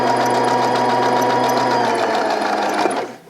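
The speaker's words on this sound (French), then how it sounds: "J'enlève mon épingle avant de coudre dessus et on repart." A sewing machine runs steadily while stitching a V-neckline on a blouse, a close, loud, even motor hum with fast needle chatter that cuts off abruptly at the end.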